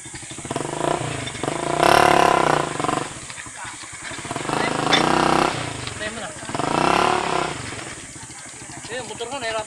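A motorcycle engine labours up a rough dirt road on the way to Puray Falls, revving and straining in three loud surges that fade between them, with voices talking throughout.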